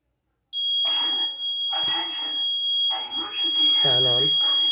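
A fire alarm buzzer from an Arduino fire detection and GSM alerting setup sounds as a steady high electronic tone that holds throughout, while a person talks over it in short bursts.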